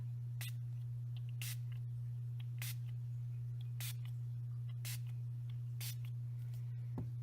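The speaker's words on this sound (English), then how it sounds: "I'm going to spray from rather high up so it does get around" Quick hissing bursts from a spray bottle misting over a stencil repeat about seven times at roughly one-second intervals over a constant low electrical hum.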